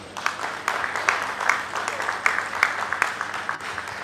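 Audience applause for the chairman at a church reunion service and fund-raising dinner, a dense continuous clapping with sharper individual claps standing out, moderately loud and sustained across the moment.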